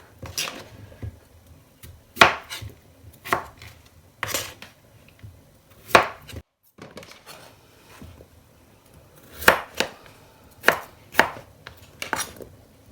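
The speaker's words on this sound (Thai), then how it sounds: "มันฝรั่งที่ล้างน้ำสะอาดเรียบร้อยแล้ว เราก็มาหั่นกันเลย" A knife chops firmly through potatoes on a board, sharp irregular strikes in bursts with short pauses between, close and clear.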